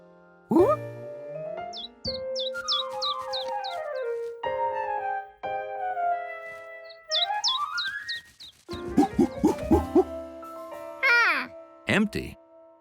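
Cartoon birds in a Curious George episode chirp at a backyard bird feeder. Quick high tweets come in two rapid bursts, mixed with playful sliding music and a character's voice.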